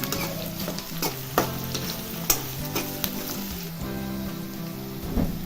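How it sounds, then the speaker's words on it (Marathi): Onion frying in a pan with whole spices and bay leaf for veg biryani: a continuous close sizzle broken by sharp clatters of a spoon stirring against the pan. "आता कांदा टाकलेला आहे हा चांगला गोल्डन वगैरे भाजून घ्यायचा आहे कांदा"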